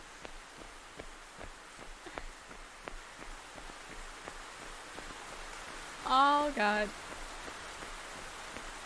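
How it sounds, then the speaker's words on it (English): Heavy rain falling outdoors: a constant hissing patter with scattered sharper drop ticks, and a voice exclaims briefly partway through. "The rain's getting heavy now."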